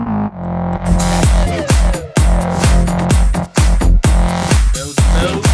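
An electronic track's verse section with punchy, loud drum hits building up over layered synth chords, dense and rhythmic, playing alone without any voice.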